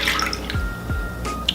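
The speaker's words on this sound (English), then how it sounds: "I'm adding 1 cup of almond milk to a bowl" A cup of almond milk pours into a bowl in a brief liquid splash and trickle, close and fairly soft.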